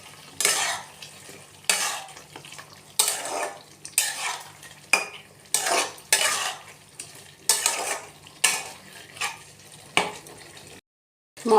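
Boiled potato pieces being sautéed in a pan, rhythmic scraping stir strokes about every second over a low sizzle, close and clear, ending in a brief silence, no voices.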